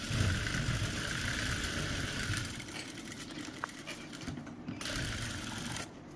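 A sewing machine runs while stitching a kurti seam at home, a low, continuous mechanical hum heard faintly and steadily throughout, with slight variation toward the end.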